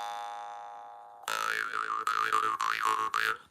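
A jaw harp is played with the mouth as its resonating chamber, starting as a plain fading twang and then turning loud, with the tone swooping and shifting over a steady drone in several quick phrases.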